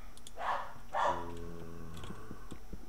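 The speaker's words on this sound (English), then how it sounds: "Oh, there's a dog." A dog in Minecraft gives two short barks about half a second apart, clear and fairly close. Faint ticking and a low hum continue underneath.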